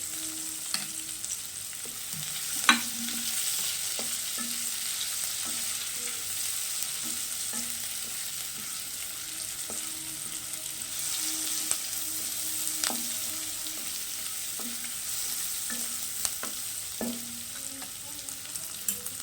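Chopped onions fry with a little salt in a pan for an egg tarka, a steady close sizzle running throughout with occasional sharp clicks and scrapes of stirring.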